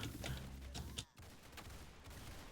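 Gunfire from a Sako sniper rifle in a video game, a dense burst of loud shots in the first second, then a brief cut and a steady busy game background.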